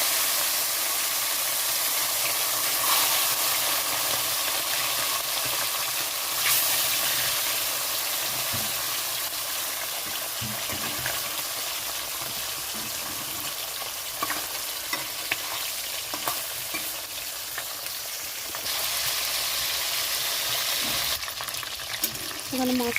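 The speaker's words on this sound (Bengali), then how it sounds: "সর্ষের তেলটা গরম হয়ে গেছে আর মাছটা ছেড়ে দিচ্ছি ভাজার জন্য।" Small carp (chara pona) frying in hot mustard oil in a kadai, a loud, continuous hissing sizzle that lasts throughout with small crackling pops.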